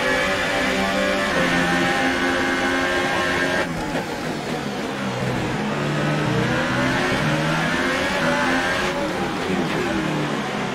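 Ferrari Formula 1 race car engine in the racing game F1 2018, a loud continuous high-pitched whine that rises and falls through gear changes, with other cars' engines mixed in.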